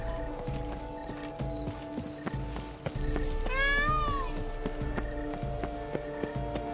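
Cat meowing in The Witcher 3 Blood and Wine: one clear, rising-then-falling meow near the middle, over a soundscape of steady horse hoof clip-clops and ambient game sounds.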